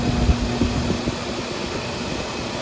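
A 1310 series constant-velocity rear driveshaft on a first-generation 1973 Ford Bronco spins at about 2,800 RPM, giving a steady, moderately loud mechanical whir with a faint tonal hum and no voices.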